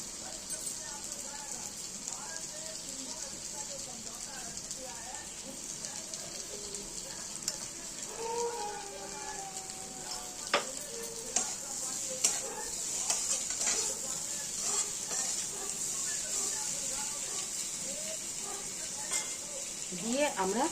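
Spices sizzle steadily in a hot pan for an egg and potato curry, with a constant frying hiss under scattered clinks and scrapes of a spoon stirring, and a voice talking now and then.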